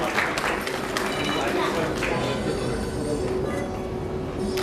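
Audience applause for guests on stage at a hotel association swearing-in ceremony, a dense, sustained wash of clapping that lasts throughout and softens slightly toward the end.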